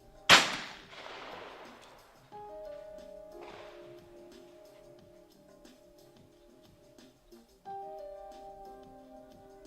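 Two shotgun blasts ring out during a trap mixed final at a historic European shotgun range, each a sharp crack with a short decaying tail, fairly distant, amid quiet electronic tones.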